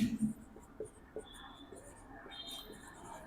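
Faint scratchy strokes of writing on a board during a 10th-grade science lesson on lenses and image formation, a few soft taps and scrapes at low level with no one speaking.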